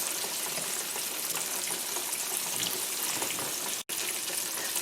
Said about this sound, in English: we're going to bring it to a simmer so our sauce thickens